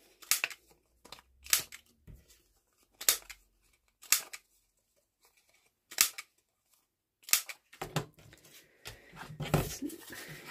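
A handheld corner rounder punch clipping the corners of paper cards, a series of sharp, close crunching snaps spaced a second or two apart, quickening into a denser cluster of cuts and paper rustling at the end.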